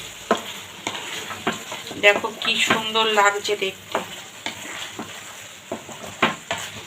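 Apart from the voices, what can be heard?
masala and capsicum being sautéed in a pan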